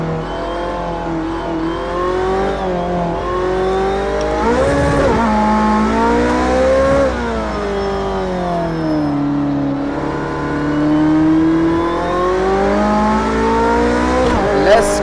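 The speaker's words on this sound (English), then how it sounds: "Engine sound is a little bit nicer here." A Porsche 918 engine revs in the racing game Project Cars 2, a loud, smooth whine that climbs and drops through gear changes as the car accelerates.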